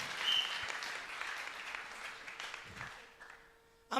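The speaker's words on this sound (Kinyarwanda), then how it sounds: "komera Imana amashyi menshi" Congregation clapping during a lively church service, a fairly faint wash of applause that gradually fades before an abrupt louder sound at the end.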